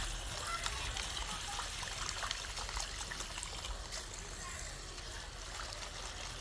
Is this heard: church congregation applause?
no